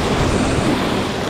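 Ocean waves breaking on the west coast behind a shore angler, a dense steady wash of surf and wind rush filling the whole moment, loud and close with no voices.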